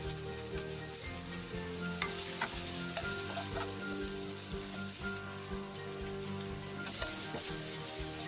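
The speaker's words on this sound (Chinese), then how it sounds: "翻炒" Colored peppers and green peppers are stir-fried in a hot wok with a constant crackling sizzle, broken by repeated scraping clacks of the spatula tossing them at an uneven rhythm, with no speech.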